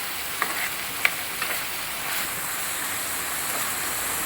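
Ivy gourd curry browning in a pan is stirred gently, making a soft, quiet sizzle with a few light scrapes and taps near the start before it settles into a faint steady fry.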